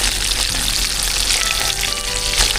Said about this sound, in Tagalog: kasulukuyan na po tayo nagpuprito ng mga tilapia